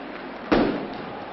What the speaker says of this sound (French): les pétards partent de plus en plus nombreux